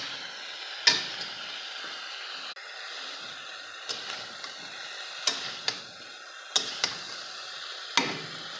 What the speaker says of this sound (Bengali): এবার নেড়ে নিই।